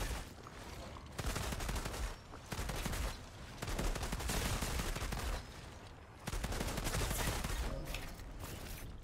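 Gunshots in the video game Outriders, heard as long bursts of rapid, dense automatic fire separated by brief pauses, loud and close with no talk.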